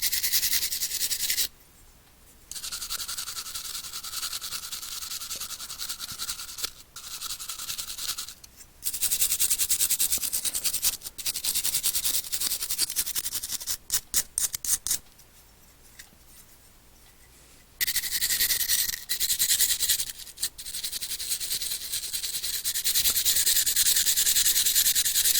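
A brush scrubbing a diecast car body to prep it for paint, loud close rasping strokes in long bursts separated by brief pauses, with no talk.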